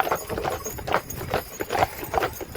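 Hooves of a four-horse hitch at a park farm clip-clop in a quick, irregular rhythm, moderately close but fairly quiet, with no voices.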